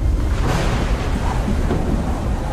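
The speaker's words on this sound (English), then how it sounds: "Thunderstorms have all types of hazards in them, from the heavy rain, hail, lightning, microburst, wind shear, severe icing." Thunderstorm noise with a loud, sustained low rumble of thunder mixed with heavy rain, continuous and close, with no voices.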